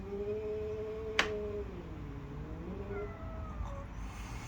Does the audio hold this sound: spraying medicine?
no